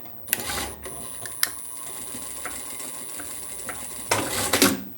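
Overlock sewing machine stitching and finishing pajama fabric, giving short bursts of fast mechanical whirring with clicks between runs and a louder final burst near the end; no talking.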